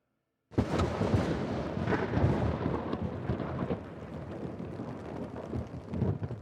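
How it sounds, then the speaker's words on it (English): Rain falls on a tent during a storm, a dense, steady patter right overhead with low rumbling beneath it, starting abruptly after a moment of silence. "listening to the steady sound of the drops against the tent."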